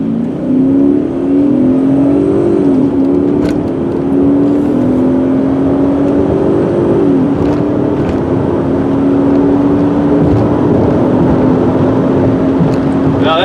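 A black 2000 BMW 740i Sport accelerates hard from a standstill to 90, heard loud and close from inside, the engine note climbing steadily, dipping briefly at a gear change, then rising again.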